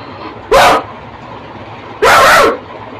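A human voice imitates a male dog with two loud, deep barks, each lasting about a quarter second and spaced well apart.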